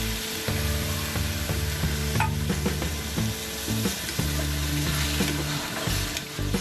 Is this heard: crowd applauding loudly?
no